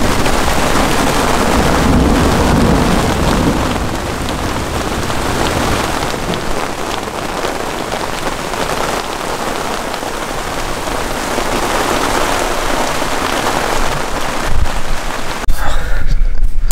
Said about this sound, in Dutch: Zo, dat is hard aan het regenen.